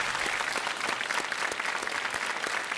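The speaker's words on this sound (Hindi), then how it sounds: "तालियों के साथ उनका हम अभिनंदन करते हैं" Studio audience on a Hindi television quiz show applauds a contestant who has just won 6,40,000 rupees, a dense, steady wash of many hands clapping, close and continuous throughout with no talk over it.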